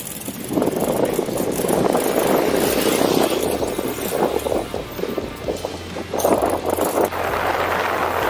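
A motorcycle engine drones steadily up close, rising and falling slightly in a continuous rough hum with wind buffeting over it and no talking.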